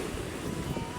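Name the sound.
rough sea waves breaking on the shore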